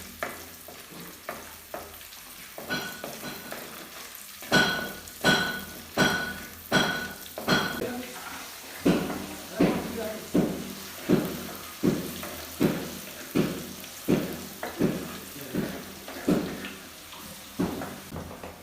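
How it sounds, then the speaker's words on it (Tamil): Onions frying in a pan are stirred in a small kitchen, with a steady sizzle beneath repeated rhythmic scraping strokes of a spoon against the pan, close and fairly loud. "கொஞ்சம் வெங்காயம் நிறம் மாறுற வரைக்கும் நம்ம கிளறிடணும்."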